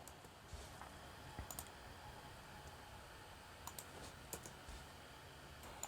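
Keys tap on a computer keyboard in scattered, light clicks and short runs, faint against a low background hiss.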